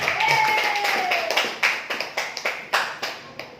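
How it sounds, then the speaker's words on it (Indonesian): Audience applause at a sharia business seminar held by PT BEST in Cilangkap: a voice at the start gives way to a scattered run of distinct, fairly close hand claps that thin out toward the end. "Beri tepuk tangan buat Bapak Ibu semua."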